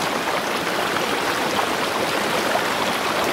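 River water rushes steadily over stones, a loud, dense and continuous broadband wash close by with no pauses.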